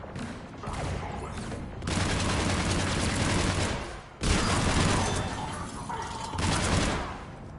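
Heavy cannon fire in the Mass Effect video game: dense, loud volleys of booming blasts roll on almost continuously, swelling and easing, with one brief dip midway before the barrage resumes.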